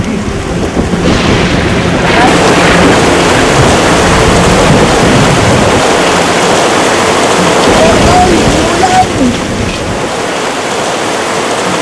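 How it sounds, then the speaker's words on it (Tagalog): Heavy rain pours down in a loud, dense, continuous wash, with faint voices mixed into the downpour. "bumuhos ang malakas na ulan"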